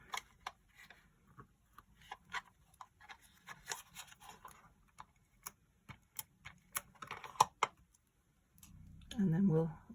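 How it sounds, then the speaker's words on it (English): A tape runner lays adhesive on a handmade card, a series of soft, quiet clicks and ticks spaced irregularly, with a short louder rustle near the end. "Tape runner."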